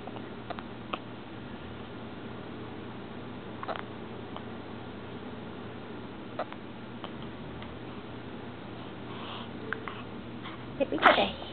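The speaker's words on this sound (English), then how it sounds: "Oh, a little sneeze, too." A small, soft sneeze from a baby who also has the hiccups, near the end of a quiet room with faint ticks and rustles.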